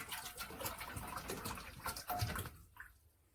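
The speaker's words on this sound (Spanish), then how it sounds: "Primero agregamos el agua al jarro." Water is poured into a jug, a steady close splashing stream that runs for a few seconds and then cuts off into near silence.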